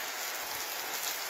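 Steady rain falls in a dense, even hiss, close and unbroken, with no voices over it.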